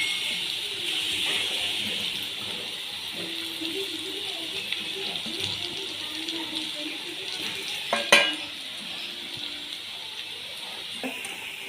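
Colocasia rolls (alu vadi) fry in a pan with a steady bright sizzle throughout, broken by occasional scraping stirs and one sharp utensil clank near the end.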